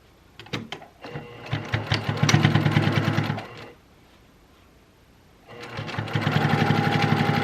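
A sewing machine stitching a Valentine table centerpiece runs in two loud, steady bursts of rapid needle hum, the first preceded by a few short starts, with a quiet pause of about two seconds between them.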